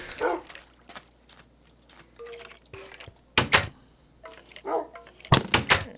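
Dogs in a video game skeleton farm bark in short yips and single woofs, scattered across the moment with a couple of louder sharp bursts near the middle and end, close and without talk.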